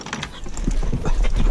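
Rapid hooves of a Paint Horse clip-clop on a vaquejada training track, a steady galloping rhythm with low rumbling underneath, fairly close and continuous.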